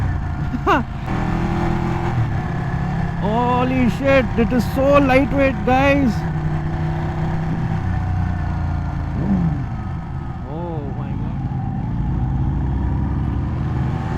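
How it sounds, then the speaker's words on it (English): A Ducati 899 superbike engine drones steadily and loud while riding through a city, with rising revs partway through. Someone speaks excitedly over it. "look at my bike sound. Crazy. I am on the Ducati 899. The sound is so awesome."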